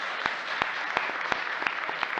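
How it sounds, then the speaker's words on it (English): Applause at a city council meeting honoring a group of young people, a short burst of steady clapping from a modest crowd with a few sharper individual claps standing out. "Hey, how about another round of applause for these great young people?"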